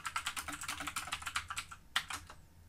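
Close, quick typing on a computer keyboard: a fast, uneven stream of crisp key clicks with one sharper, louder keystroke near the end, and no talking.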